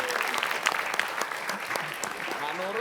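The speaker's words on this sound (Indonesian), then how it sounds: "Kita beri tepuk tangan buat saya." Studio audience applause on an Indonesian TV quiz show, a steady dense wash of clapping for about three seconds with a few cheers and background voices mixed in.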